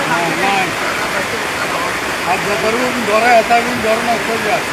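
Very heavy village rain pouring down as a loud, constant wash of roaring water, with voices talking over the downpour.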